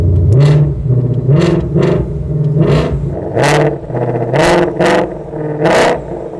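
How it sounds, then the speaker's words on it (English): A 2022 Shelby GT500 revving while stationary in track mode with the exhaust valves open, the engine swelling and dropping in repeated sharp blips, loud and close, with mechanical whir between pulses. "Especially in track mode. Gauge changes up. Exhaust valves are open."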